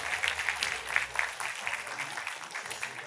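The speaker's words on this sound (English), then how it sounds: "Let's give them a huge round of applause." A crowd claps steadily for about three seconds, a dense, even patter of many hands at moderate loudness.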